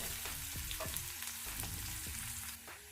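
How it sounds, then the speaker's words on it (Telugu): Green chillies frying with onions in a pan for dabaha dal (minapappu) give off a faint, steady sizzle with soft crackles throughout, and no one speaks. "ఇప్పుడు ఇందులోనే ఒక 2 పచ్చిమిర్చి, వేసి వేయించుకోవాలి."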